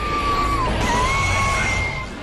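A long, wavering, high-pitched creature scream plays from a recording device, sustained over a loud rumbling background and sliding in pitch before fading slightly.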